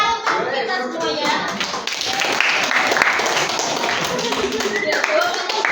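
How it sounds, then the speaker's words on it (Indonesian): A classroom of children bursts into lively clapping, close and busy, with rhythmic hand claps and excited young voices talking over it throughout. "tepuk tangan untuk kita semua ya"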